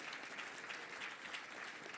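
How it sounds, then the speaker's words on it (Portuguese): A crowd at a meeting between Lula and evangelicals claps for a senator, a faint, distant, even roll of many hands that holds steady throughout with no distinct individual claps standing out. "salva de palmas para o senador Randolfo nesse momento"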